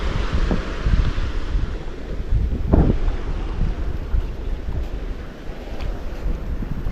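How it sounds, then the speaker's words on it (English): Strong wind buffeting the microphone on a rocky beach in Udupi, Karnataka, a steady loud roar with gusty rumble and faint surf underneath, no voices. "I don't know if you can hear me because of the wind"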